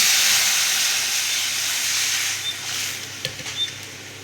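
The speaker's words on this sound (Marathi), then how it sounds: "असं चांगलं भाजून घेतल्यानंतर ह्याच्यामध्ये आपण केलेलं ताक घालून घेऊया" Homemade buttermilk hits a hot roasted mixture in a pan, giving a loud, steady hiss of sizzling that slowly eases, with a few small pops and clinks near the end.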